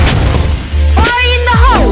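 A grenade goes off in the Bullet Angel shooter game, a loud, short, deep boom mixed with game voice lines and sound effects.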